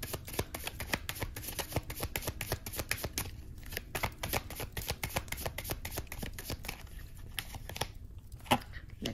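A deck of tarot cards shuffled continuously at close range, a steady dense run of crisp riffling and flicking with brief pauses, no voices over it.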